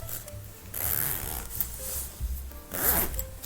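A zipper pull slides down the metal teeth of a jacket zipper during sewing work, giving a few close rasping zips with short pauses between them in a quiet room.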